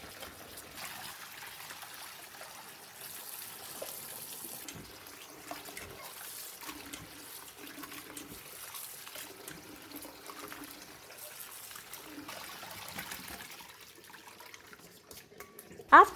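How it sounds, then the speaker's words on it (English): Squid being rinsed clean of flour under running tap water, a soft continuous trickle and splash in a sink, fairly quiet and steady with occasional handling noises and a brief louder knock at the end. "Rinse off for 3 to 4 times until clean and no more flour stuck on the squid."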